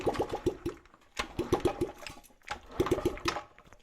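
A Honda CRF50 dirt bike engine, a free dump find with the choke on, coughs and sputters in three uneven bursts of rapid firing pulses, each dying out before catching properly.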